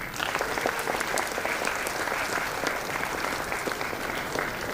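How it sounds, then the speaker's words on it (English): Dense, sustained applause from a large audience at a university convocation ceremony as a silver medal winner is called to the stage, even and continuous throughout. "Please give a big round of applause."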